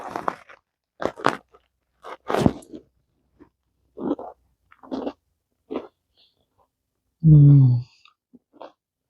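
A single loud crunchy bite into a triple chocolate biscotti comes near the end, following scattered quiet speech with pauses.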